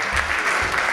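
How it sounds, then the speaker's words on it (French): An audience at an arts festival evening claps, a brief, loud burst of steady applause from many hands. "applaudissements"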